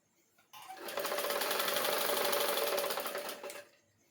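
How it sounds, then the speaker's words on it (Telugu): Sewing machine running in one steady, continuous burst of about three seconds, stitching blouse neck pieces together with close, tight stitches during tailoring of a size 32 blouse; near and loud with no talk. "మెడ ముక్కలు జాయింట్ చేసుకునేటప్పుడు చాలా దగ్గర కుట్టు పెట్టుకోవాలి."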